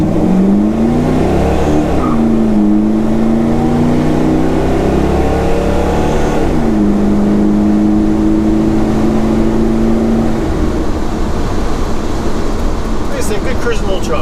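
A small truck accelerates on the road, its engine note climbing steadily through two revving pulls, with steady road and cabin noise underneath and no talk.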